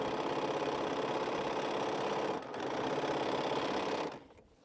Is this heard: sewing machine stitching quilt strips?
yes